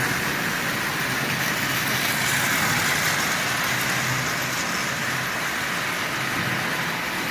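A Marx 595 toy train runs on a motor swapped in from a Marx 400, giving a steady, close, whirring mechanical buzz with rattling that holds even for several seconds, with no voices.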